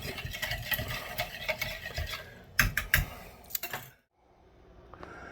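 A spoon stirs a pot roast sauce mixture in a bowl, giving quick uneven scraping and clinking strokes that stop abruptly, followed by a quiet pause.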